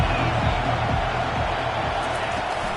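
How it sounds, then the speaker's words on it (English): A football stadium crowd cheers during a prime-time game as a broad, sustained roar of many voices with steady intensity, and an announcer talks over the noise. "This crowd bringing the energy and noise early."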